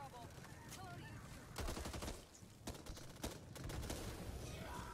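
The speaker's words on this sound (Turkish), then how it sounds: "Lan oğlum sürekli bomba patlıyor." Bombs explode repeatedly amid rapid gunfire in the co-op shooter game Back 4 Blood, dense bursts of blasts and shots clustered through the middle, with players' voices faintly underneath.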